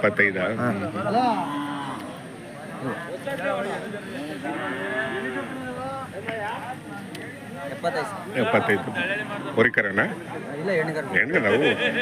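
Hallikar cattle low and moo repeatedly amid a busy outdoor cattle market crowd, with people chattering nearby throughout.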